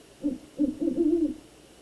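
An owl hoot plays from a grammar lesson recording: a short hoot followed by a longer, lower hooting call, clear and alone.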